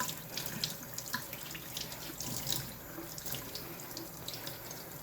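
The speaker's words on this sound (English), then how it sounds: "Alright, I'm just going to rinse this really, really good." Water runs steadily over a 1969 Camaro being rinsed after a soapy wash, its windows still taped, making a continuous close hiss and splash with no pauses.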